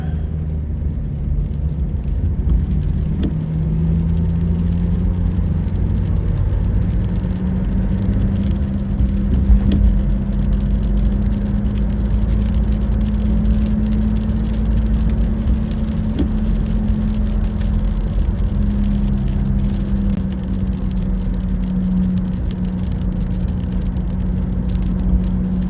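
Steady in-cabin car drive with a continuous low road rumble and engine hum, a faint whir drifting slightly in pitch, constant and moderately loud throughout with no talking.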